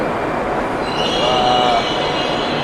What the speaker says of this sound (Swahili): treni nyingi bana. Hapa zina mabehewa 7, zingine zina mabehewa 8